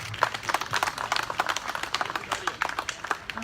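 A room of people applauds, with dense, uneven clapping continuing steadily at moderate loudness.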